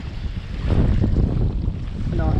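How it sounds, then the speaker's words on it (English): Strong gusty wind buffets the microphone beside a canal while perch fishing, a loud continuous rumbling roar rising and falling in waves with no talk. "But I've got to get out of this wind."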